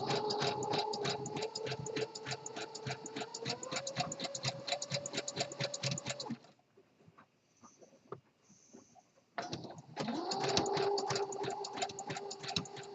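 A home sewing machine zigzag-stitches over fabric and the raw edge of an elastic waistband on a sport brief, its rapid needle rhythm steady and close, stopping for a few seconds of near silence before resuming.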